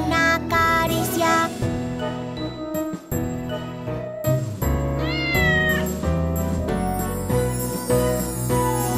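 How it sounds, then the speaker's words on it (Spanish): A ginger kitten meowing in a children's song, with repeated cartoonish meows set within loud, busy music rather than heard alone. "Es un gatito pelirrojo. ¡Miau, miau, miau, miau, miau, miau!"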